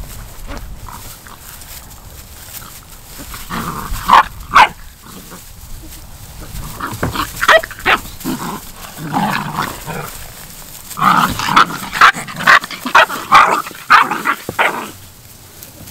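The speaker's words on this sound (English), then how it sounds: "And these puppies just keep fighting, so that's what I'm sitting here looking at." Several puppies play-fight at close range, with repeated yips, growls and short barks coming in bursts, busiest toward the end, as a person talks quietly now and then.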